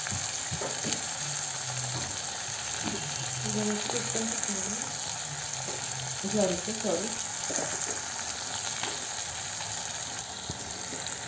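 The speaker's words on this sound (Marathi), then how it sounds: "आता तेलामध्ये ह्या भेंड्या चांगल्या भाजून घ्यायच्या" Okra fries in oil, a continuous soft sizzle with faint stirring, fairly quiet, while a voice speaks briefly over it.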